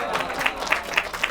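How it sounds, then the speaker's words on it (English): Audience applause at a live close-up magic show, a short burst of steady clapping mixed with crowd noise, with a few sharper claps standing out. "A round of applause for Bailey"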